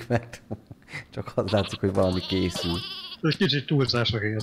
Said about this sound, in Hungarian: Ó, mi ez a brekegés hangja?